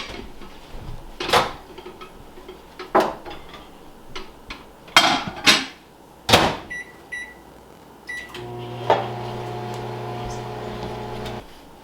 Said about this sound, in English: we're going to put this in the microwave for 30 seconds